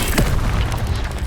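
In the Hogwarts Legacy video game, an Incendio fire spell goes off as a loud, close booming blast with a rushing roar that fills the whole moment.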